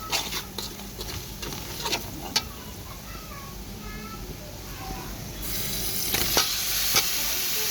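Onions and spices fry in a pan before beef goes in, a continuous sizzle with clinking, scraping stirs; a person speaks over the cooking.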